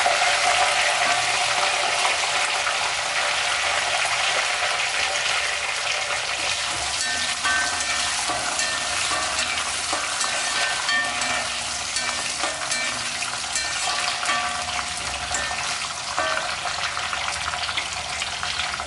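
Curry leaves and garlic fry in oil for a Chettinad brinjal kuzhambu, a loud, dense, continuous hiss and crackle like heavy rain that barely varies throughout.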